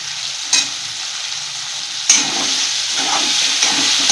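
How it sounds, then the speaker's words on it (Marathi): Spicy Indian chicken gravy masala roasting in hot oil, a steady close sizzle and frying hiss with a few sharp bursts as it is stirred, no voices. "हे आपलं चांगलं तेल सुटेपर्यंत भाजलेलं आहे"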